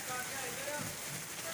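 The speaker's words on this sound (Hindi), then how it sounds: "ये देखें बारिश माशाअल्लाह शदीद तरीन बारिश और साथ यालाबारी भी बहुत शदीद हो रही है।" Heavy rain with hail in Gujar Khan, Pakistan, a faint steady hiss of drops drumming on surfaces, continuous and fairly distant.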